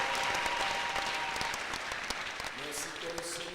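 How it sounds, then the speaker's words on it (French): A church congregation applauds and cheers for Jesus Christ at a pastor's prompting, dense clapping with voices over it, thinning toward the end as talk takes over. "Acclamez un peu le Seigneur Jésus-Christ."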